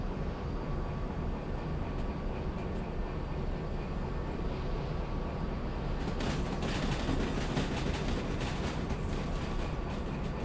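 Train rolling along in the Derail Valley simulator game, a steady dense rumble that stays loud throughout, with a brighter hissing layer joining partway through.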